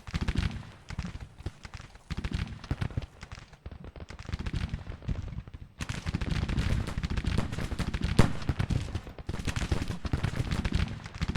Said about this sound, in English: Now it looks like the artillery's finally firing.